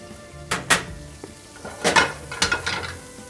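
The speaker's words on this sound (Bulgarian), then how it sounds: "и запържваме лука." Onions sizzle and crackle in butter in a hot pan, with bursts of stirring and utensil scraping against the metal.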